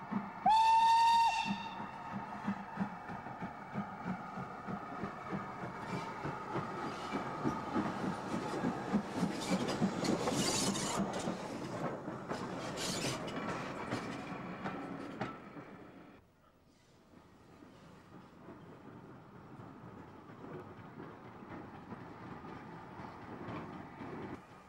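A steam train whistle shrieks, then LMS locomotive number 2968 chuffs and rumbles past on the Severn Valley Railway with rhythmic clatter of wheels on rails, fading into a quieter distant roll.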